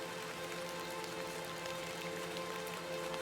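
Steady rain falls in the game Hob's Barrow, a dense, even patter across the whole stretch with a faint low hum beneath, no voices.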